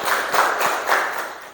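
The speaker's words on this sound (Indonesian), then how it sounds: "tepuk tangan dulu untuk mereka." Brief, fairly soft applause from a school class for two students, a quick scattered patter of hands with no talking over it.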